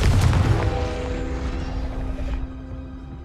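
A Confringo explosion spell from Hogwarts Legacy bursts with a heavy boom at the start, then fades over a few seconds into a lingering rumble before cutting off.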